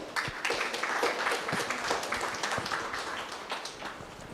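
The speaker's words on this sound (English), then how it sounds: "I request you all the delegates to kindly give Sir a round of applause." Delegates at an academic session give a round of applause, a dense patter of many hands clapping at moderate level, sustained across the whole stretch and gradually easing toward the end, with no voices over it.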